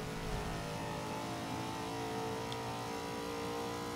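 A Buick GNX engine in the Forza 5 racing game holding a steady high-revving drone with a continuous harmonic whine, no distinct rise or fall, with no voices.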